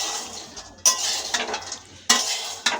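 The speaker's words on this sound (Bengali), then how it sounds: "এক কড়াই বাদাম বাজতেছে" Peanuts roasting in a wok are stirred with a utensil, giving dry scraping, rattling strokes, with two sharp louder scrapes standing out over a steady rustle, close and with no talk.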